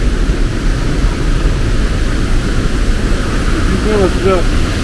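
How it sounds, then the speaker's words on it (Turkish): Strong, steady wind roars and buffets the microphone at the Edessa waterfall in Greece, a dense broadband rush with low rumble, and a brief tonal whine near the end. "İnanılmaz bir esinti var."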